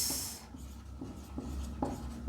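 Chalk or marker writing on a board during a physics lesson on electric fields, a run of short rhythmic scratching strokes, close and moderately loud, with no talking.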